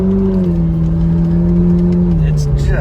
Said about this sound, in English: to have something that sounds like that on stock exhaust is just ridiculous